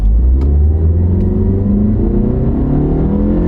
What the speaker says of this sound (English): So, we can come to a stop here, and we'll step on the gas.